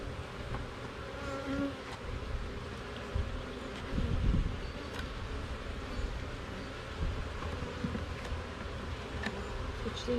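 Honey bees buzzing in an open hive while honey is being worked, a dense continuous drone close by, with faint handling knocks from the frames.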